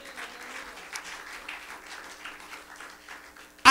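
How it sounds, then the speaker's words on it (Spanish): A church congregation claps faintly and unevenly in a reverberant hall, ending with a sudden loud burst. "Denle un aplauso a Jesús."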